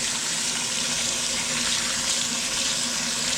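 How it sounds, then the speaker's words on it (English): Tap water runs steadily over a greasy kitchen range hood filter as it is rinsed in a sink, a continuous close splashing gush with no talk. "Rinse it off."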